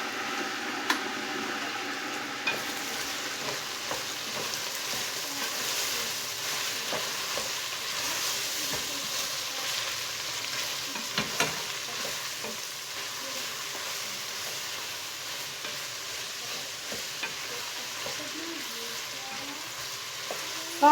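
Green beans with pepper paste and tomato paste being sautéed in a home kitchen pan, a steady moderate sizzle broken by occasional clicks and scrapes of a spoon stirring.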